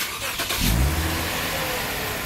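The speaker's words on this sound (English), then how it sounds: "No muffler or everything, just stock. Alright, rev it real quick." A Lexus IS250 with its stock exhaust gives one short, close engine rev that swells and drops quickly, then settles into a steady low idle.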